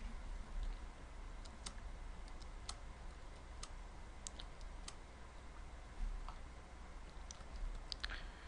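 Faint, scattered keystrokes tap on a computer keyboard as a router command is entered, with irregular light clicks over a quiet room hum.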